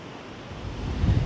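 Ocean surf at Wharton Beach in Cape Le Grand National Park, a soft wash of breaking waves that swells louder toward the end, mixed with wind noise.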